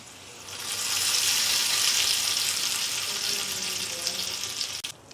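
Hot tempering poured into peanut chutney for appam gives a loud, steady hiss and sizzle that swells within the first second, holds for a few seconds, then tapers off near the end.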